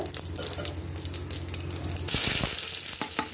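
Cinnamon and fennel seeds fry in hot oil inside a pressure cooker, a close, crackling sizzle that jumps sharply louder partway through, with scattered pops and stirring scrapes.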